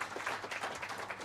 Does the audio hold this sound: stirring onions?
no